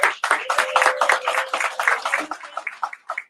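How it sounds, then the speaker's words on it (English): A crowd gives a loud, dense round of applause for a group of student drummers, the clapping steady and close throughout with some voices mixed in. "So if y'all could give them another round of applause"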